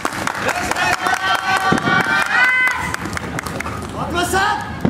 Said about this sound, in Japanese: どうか皆様心強い歓声をお願いいたします